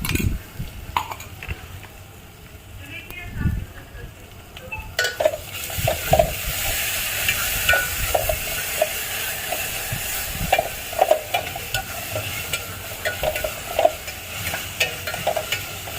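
Coconut-garlic paste is stirred into potato rice cooking over a wood-fired stove. A softer, quiet stretch leads to a steady close sizzle with repeated spoon stirs and scrapes against the pot.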